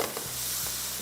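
Prawns with coriander frying over a high flame, a steady hiss with a couple of soft scraping stirs in a short, close burst.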